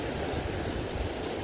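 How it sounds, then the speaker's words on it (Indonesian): Ocean waves wash in at a sea fishing spot on the Reslangu coast, a steady, loud broadband roar of surf mixed with wind buffeting the microphone, continuous with no distinct breaks. "Kondisi ombak sangat bagus sekali buat mancing."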